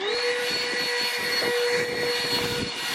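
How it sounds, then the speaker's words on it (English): A vacuum cleaner runs steadily while cleaning a car's cup holder, a loud, continuous whine with a rushing airflow hiss and no pauses. "Let's give her a hoover."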